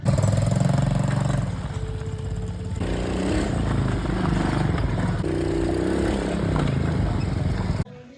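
A 110cc quad's engine runs during a test ride, a steady mid-pitched motor drone with small shifts in tone, close and loud throughout, then cutting off abruptly at the very end.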